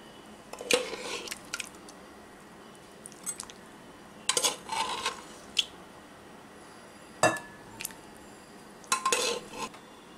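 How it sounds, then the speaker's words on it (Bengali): Cooked mutton kosha is served into a dish, with a handful of sharp spoon and utensil clinks against metal and crockery separated by quiet gaps. "ডিশ আউট করছি আমি।"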